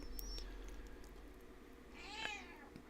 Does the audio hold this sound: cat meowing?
yes